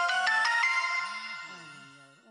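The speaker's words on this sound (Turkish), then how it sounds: "O bir şey yok. Mesaj sesin." A mobile phone plays its message notification tone, a short bright chime followed by a melodic electronic jingle that fades gradually, heard alone and close by.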